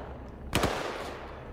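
A sharp double crack of gunfire in the video game Arma 3 during a US soldier patrol around Zargabad, a quick pair of shots standing alone against quiet ambient background.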